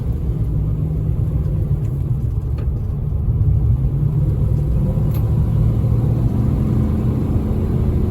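A 2005 Nissan Armada SE with a 5.6-liter V8 and four-wheel drive runs steadily while driving, giving a continuous low engine rumble and road drone heard from inside the cab with no speech.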